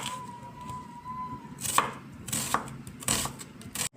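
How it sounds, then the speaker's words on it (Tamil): A knife chops mint, coriander, tomato and onion on a board in several quick bursts of sharp, crisp thuds, close and clear, after a quiet stretch with a faint steady tone in the background. "புதினா, மல்லி இலை, தக்காளி, பெரிய வெங்காயத்தையெல்லாம் நம்ம கட் பண்ணி வச்சுக்க போகிறோங்க"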